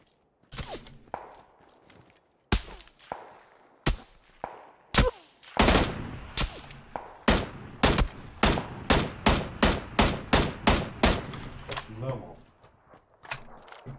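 AUG rifle in burst mode firing in PUBG on the Erangel map: a few sharp, spaced shots, then a long run of rapid, evenly timed loud reports that tails off, with faint game footsteps and mechanical sounds between.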